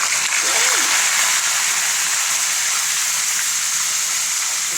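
Tilapia frying in hot oil, spitting and splattering in a steady loud hiss that runs throughout, with a brief voice-like sound near the start.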